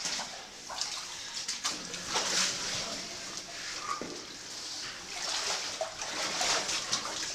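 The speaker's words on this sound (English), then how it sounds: "We see the water taking mud downstream." Muddy water running downstream through a cave passage, a close, steady rushing and splashing flow that swells and eases, with occasional faint voices beneath it.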